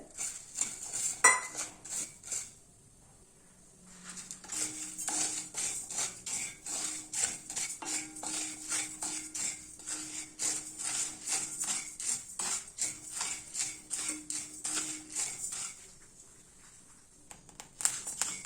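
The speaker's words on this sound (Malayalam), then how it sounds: "ഇതിപ്പം വറുത്ത് ആവി വരുന്നുണ്ട് നല്ല പൊട്ടുന്ന ഒച്ച കേൾക്കാം" Rice dry-roasts in a pan for a traditional Karkidaka Vavu rice preparation while a utensil stirs it. Close, steady scraping strokes repeat in a quick rhythm with faint crackle, after a short quiet opening. No one speaks.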